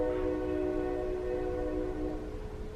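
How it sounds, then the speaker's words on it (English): A passing train sounds a sustained horn chord in the background, steady and moderately distant, with a low rumble beneath that slowly fades toward the end. "train in the background"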